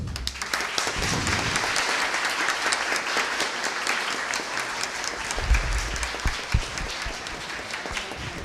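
An audience in a municipal council chamber in Santa Luzia do Paruá applauds, sustained dense clapping from many people that stays loud and even throughout, with a few louder individual claps near the end.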